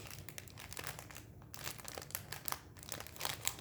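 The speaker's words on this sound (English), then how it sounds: "these are Yarnology brand plastic bags that are, they have a hole punched in them" Crinkly Yarnology brand plastic project bags with a punched hole are handled up close, giving a continuous rapid crackle and rustle with no talking.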